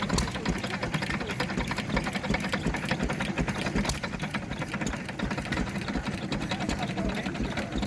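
A stationary engine runs at an outdoor engine rally, giving a steady, fast mechanical chugging that continues evenly throughout at moderate loudness, with faint background voices.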